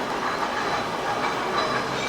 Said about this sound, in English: This tram is a historical tram.